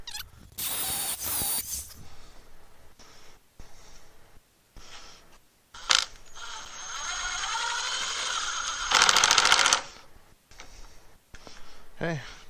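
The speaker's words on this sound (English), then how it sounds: "now what we want to do is drill into the wall using the holes that were already there" Power drill boring into a basement wall through existing holes, heard as several loud whirring bursts of varying length separated by pauses, the longest running about four seconds, with handling clatter in between.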